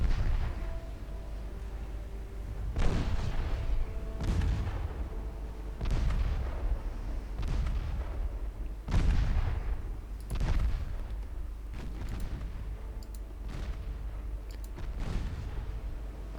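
Naval gunfire from the cruiser Atlanta in the warship game Ultimate Admiral Dreadnoughts: a series of about eight heavy, booming salvos at irregular intervals of one to two seconds, each with a rumbling decay, over a low steady hum and no voices.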